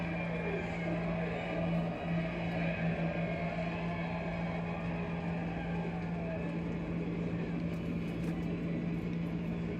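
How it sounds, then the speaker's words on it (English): NASCAR race car engines fire up at Michigan, a dense, sustained mechanical roar with a steady low hum, heard from a distance. "fire the engines back up."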